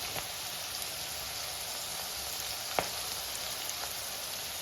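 Chopped ginger for an Irumban puli (bilimbi) pickle sizzles quietly in hot oil in a pan, a soft steady crackle with a few sharper pops scattered through it.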